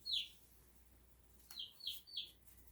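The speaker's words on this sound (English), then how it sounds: "They're going to chirp though because they hear my voice." Pet chickens in a kitchen give a few short, high chirps, one at the start and three close together near the end, faint against a quiet room.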